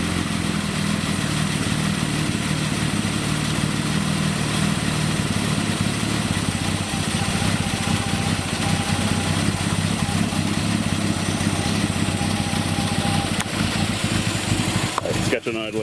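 A Datsun 280Z engine idles in a garage, a steady close rumble with a light ticking clatter running continuously, while a person talks over it.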